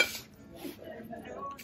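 Dansk ceramic dishes clink and clatter as they are handled in a thrift store, a few sharp light knocks of plates and bowls close by, with faint speech in the background.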